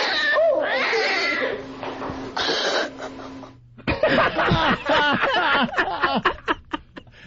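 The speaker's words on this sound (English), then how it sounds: "No, that's not the fun sound of a cat." A distressed cat yowling and caterwauling loudly in long, wavering cries, then a run of shorter, choppy meows and squalls, close and prominent.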